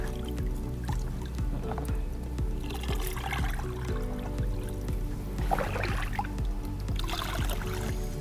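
Water poured into a bucket makes a continuous close splashing and trickling fill, steady in level throughout with no voices.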